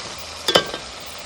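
Chopped vegetables for vegetable biryani sizzle steadily in a hot pan, with a brief clatter of stirring partway through.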